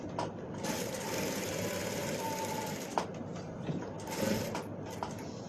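A sewing machine stitches old saree fabric with a fast, steady mechanical whir in several continuous runs, broken by brief pauses and small clicks.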